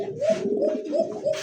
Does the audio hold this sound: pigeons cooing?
yes